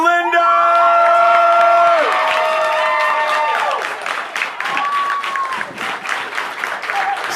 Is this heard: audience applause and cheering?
yes